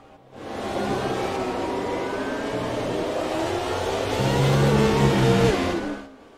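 Racing cars in the video game F1 2017 at the Mexican Grand Prix hold a steady high-revving engine drone that swells louder near the end, with no talk over it.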